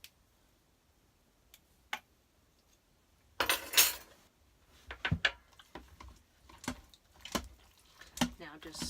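Utensil stirring and scraping through soft mashed potatoes in an Instant Pot pot, a scattering of close clinks and scrapes with a busier stretch of mixing midway.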